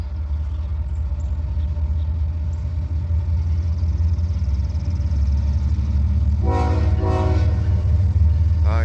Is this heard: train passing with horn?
yes